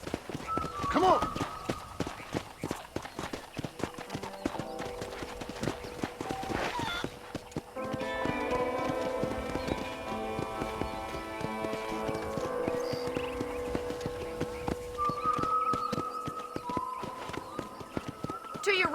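In the video game Red Dead Redemption, rapid rhythmic hoofbeats of a galloping horse pound steadily throughout, with a voice speaking over them and a horse whinnying.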